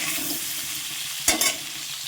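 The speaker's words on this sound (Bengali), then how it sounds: "আলুটা আবার ভেজে নেব" Potato pieces frying in hot oil for a cauliflower curry, a steady close hiss broken midway by two quick scraping stirs.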